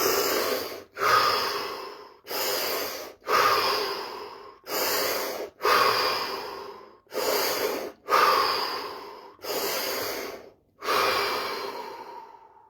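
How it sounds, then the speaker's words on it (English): Five deep breaths, each a long close inhale followed by an exhale, with short pauses between them in a slow, even rhythm and nothing else in the background. "5 deep breaths, followed by 30 seconds of absolute stillness and silence."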